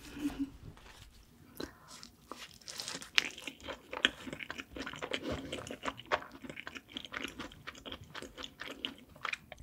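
Close, crisp crunching and chewing of Pizza School Irish pizza in a mukbang setting, with steady repeated bites and mouth sounds and no talking.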